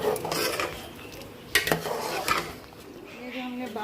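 Chicken with spices being stirred and fried in a pot for Bombay biryani, with close scraping and clinking of a utensil against the metal and a soft sizzle underneath, a few sharper knocks standing out.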